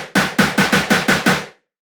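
A laser bass synth with a chorus effect plays seven rapid, evenly spaced bright stabs, each with a sharp attack and short decay, loud and alone, ending in silence.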